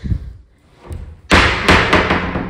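A heavy door in an empty house with hardwood floors thuds loudly as it is pushed open, followed by a couple of further knocks and bumps after a quieter rustle.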